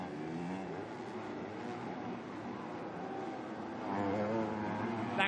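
MX2 motocross bikes racing, a Red Bull Gas-Gas and a Husqvarna, their engines droning steadily at moderate distance and then rising louder and rasping as one bike nears toward the end.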